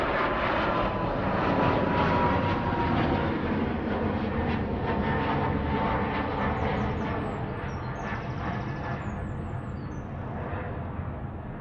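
A Ryanair Boeing 737 MAX 8 departs Manchester Airport, its engine roar loud and sustained, slowly easing off toward the end as the jet pulls away, with no voices over it.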